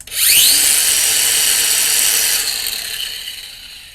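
A power cutting tool biting into a bolt on a fuel tank strap, with a loud, high grinding whine that holds steady for about two seconds and then tapers off as the tool spins down.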